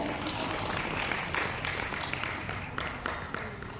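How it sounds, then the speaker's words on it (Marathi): An audience at a Marathi devotional Bhagavat discourse claps for a woman, soft, fairly distant applause from a crowd, steady with a few louder bursts, heard alone without talk. "त्या ताईंसाठी टाळ्या वाजवायच्या"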